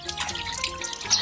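Water runs steadily from a tap, splashing and dripping as a cow head is rinsed clean in a sink, a short close wash with light spattering.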